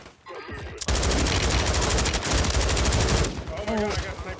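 Rapid sniper and automatic gunfire in a video game erupts after a brief quiet start, a dense, loud barrage lasting a few seconds before tapering into lighter shots and game noise.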